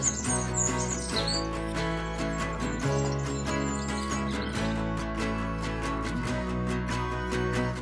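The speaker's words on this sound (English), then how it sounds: "just listen to the birds tweeting and all the nature that surrounds." Birds chirp and tweet in quick bursts over a steady layered musical backdrop with regular beats, the calls bright and fairly close.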